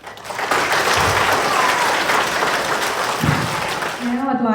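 Students at a school World Teachers' Day event applaud their teachers, a dense burst of clapping that holds steady for about four seconds before a voice begins speaking over it.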